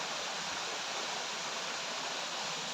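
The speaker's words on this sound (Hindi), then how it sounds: "पहाड़ों से झरकर आता हुआ बर्फ़ का पानी" Snowmelt water from the mountains pours down a waterfall stream near Dharamshala in Himachal Pradesh, a steady, loud broadband rush that holds unbroken throughout.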